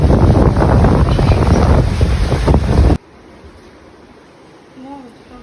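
Strong wind buffets the microphone beside the sea for about three seconds, a loud roaring rush that suddenly cuts to near quiet, followed by a faint brief voice.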